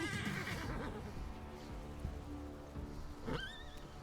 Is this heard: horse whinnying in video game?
yes